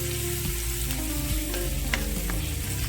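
Dried prawns frying in oil in a pan: a dense, continuous crackling sizzle with light stirring, close and steady throughout, no voices.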